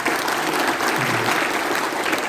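An audience claps for PT Bos at a company event: dense, steady applause from a crowd, loud and sustained throughout without pause.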